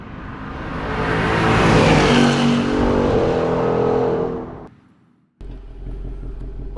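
Piped-in engine sound inside a Ford Mustang GT swells into a loud accelerating roar, fades off sharply near the end, then a lower steady hum resumes alone.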